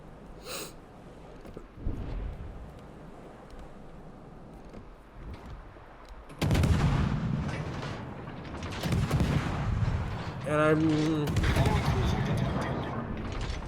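Naval guns fire in the World of Warships video game, heavy booming salvos that erupt midway and repeat in several loud blasts over a rumbling battle background.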